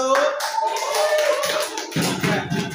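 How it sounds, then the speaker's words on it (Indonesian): Classmates clapping for a student group after a presentation in a language class, a brief spell of scattered hand claps mixed with voices talking over them. "tepuk tangan buat kelompok 1"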